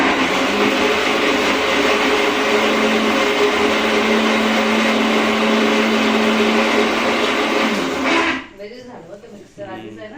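An old mixer grinder grinding masala for chicken, a loud, steady motor whine with a constant hum, running close for about eight seconds before it switches off abruptly and a voice speaks.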